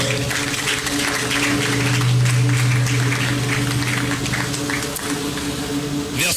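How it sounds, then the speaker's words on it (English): Audience applause at an industry gathering in Ghana, a steady wash of clapping that holds for several seconds under a low, sustained hum. "Shall we do a big round of applause"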